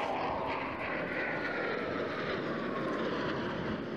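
Eurofighter Typhoon jet flying a slow roll at an airshow, a continuous, distant, loud roar with a slowly shifting pitch.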